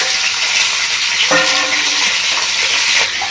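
Fried mutton tipped into hot spiced tempering oil, a loud steady sizzle with a burst of frying and scraping as the meat goes in and is stirred.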